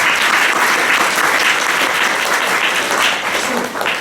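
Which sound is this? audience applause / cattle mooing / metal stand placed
audience applause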